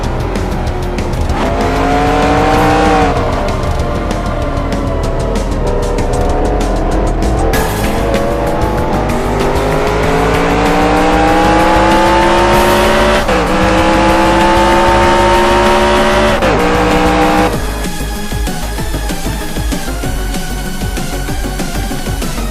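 Race cars roar through a Nintendo NASCAR Cup Series game race at the Continental Grand Prix, including a special throwback car, engines droning continuously and loudly with rising and falling pitch sweeps as they shift gears, plus brief tire squeals.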